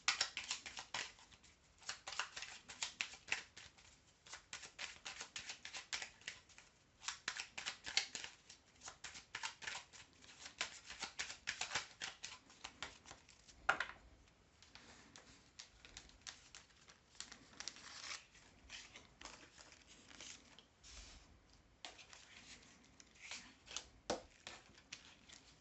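A deck of cards is shuffled over and over, giving a soft, continuous riffling and flicking of cards at close range. The sound is quiet, with uneven bursts and no voice over it.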